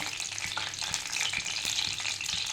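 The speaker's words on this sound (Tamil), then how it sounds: "சூடான உடனே நம்ம பட்டை எடுத்து வச்சுருக்கோம் போட்டுக்கலாம்" Cinnamon sticks dropped into hot oil for chicken biryani, a continuous soft crackling sizzle with small pops, moderately quiet and close, no voices.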